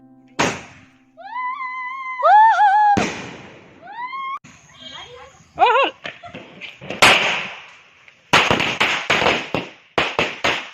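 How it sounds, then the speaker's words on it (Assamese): During a Diwali celebration, whistling rising tones are followed by a rapid series of loud, close firecracker bursts and sharp cracks. "এতিয়া আমি বম এটা ফুটাম।"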